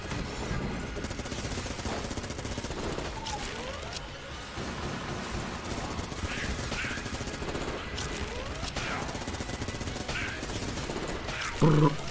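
Rapid, steady gunfire from the Enter the Gungeon video game, layered with mechanical clicks and effects and kept up throughout at a moderate level.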